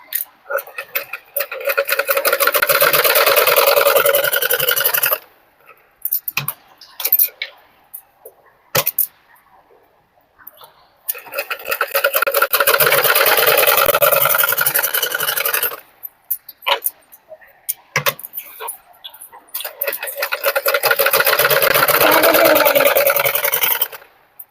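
Sewing machine stitching blouse fabric along marked lines in three long, loud, fast-rattling bursts, separated by pauses filled with scattered clicks and handling sounds.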